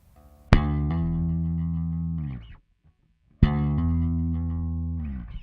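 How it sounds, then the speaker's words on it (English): Slap bass demonstrating a hammer-on: two sharp slapped attacks, each followed by a sustained ringing note that changes pitch and fades, separated by a short silence, close and clear with no talking. "And here's what a hammer on would sound like."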